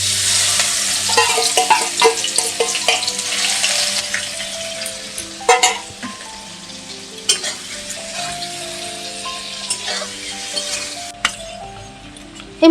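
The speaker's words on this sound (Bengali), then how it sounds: "এবার চিংড়ি মাছটা ভেজে নেব তেলে" Prawns fry in hot oil with a loud, steady sizzle that gradually thins out, broken by occasional clinks and scrapes of a utensil stirring in the pan.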